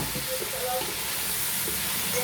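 Onions sizzle in a pan as they are stirred for chicken biryani, giving a continuous, close, bright frying hiss with faint clinks and a voice murmuring softly underneath.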